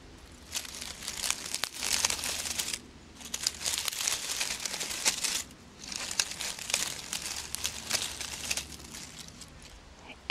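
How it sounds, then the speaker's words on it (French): Footsteps crunching through dry dead autumn leaves on a forest path, a steady run of close crinkling, rustling steps with two brief pauses between bursts. "Le son des feuilles mortes tombées au sol pendant l'automne."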